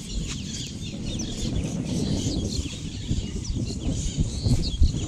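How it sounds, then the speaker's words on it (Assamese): Birds calling and chickens clucking over a steady, rushing background noise near Kaziranga, Assam, with chirps scattered throughout. "চৰাইবিলাকে কিমান ধুনীয়াকৈ মাতি আছে"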